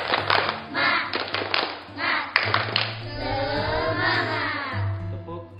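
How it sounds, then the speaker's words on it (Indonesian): Schoolchildren at an elementary school in Banjar do a rhythmic group spirit clap, quick patterned claps mixed with chanting voices and talk, close and lively. "Tepuk semangat."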